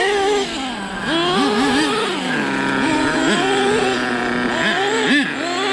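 HPI Savage nitro RC trucks with K4.6 and F4.6 big block engines launching off the line, loud high-pitched engines revving and wailing up and down together, close and continuous.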